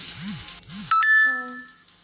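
A phone notification chime rings out clearly, a bright sustained tone with ringing overtones, following a pair of short rising-and-falling tones, close and alone without talk.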